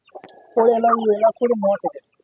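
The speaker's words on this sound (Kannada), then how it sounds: "ಕೋಳಿ ನೋಡಿ ಫ್ರೆಂಡ್ಸ್ ಈಗ ಕೋಳಿ ಎಲ್ಲ ಬ್ಲಾಕ್ ಅಲ್ಲಿ ಇದೆ" An Aseel rooster at a rooster-fighting farm gives a short run of close, loud clucks in quick bursts, with people talking nearby.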